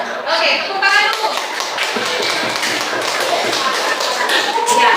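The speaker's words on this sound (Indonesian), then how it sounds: "Oke, tepuk tangan dulu." A classroom group claps hands together in a quick, dense patter that carries on for several seconds, with voices chattering underneath.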